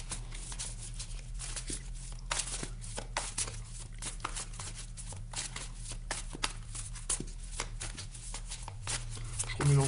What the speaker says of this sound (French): Je remélange bien le jeu pour vous.